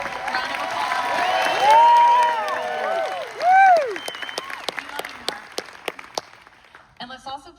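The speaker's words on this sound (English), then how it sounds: "Give Mark a round of applause" An audience at a Hacks series finale Q&A applauds cast member Mark, with dense clapping mixed with rising and falling whoops and cheers, then thinning to scattered single claps before fading.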